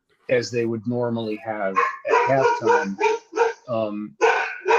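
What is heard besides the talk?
dog barking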